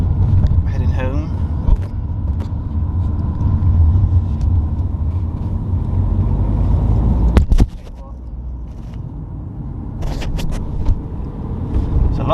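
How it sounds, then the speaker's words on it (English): Road traffic rumbles steadily around a car on the move. The low engine and road noise is continuous, and the sound drops and changes partway through. "There's a lot of traffic."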